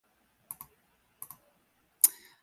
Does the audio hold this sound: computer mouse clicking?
yes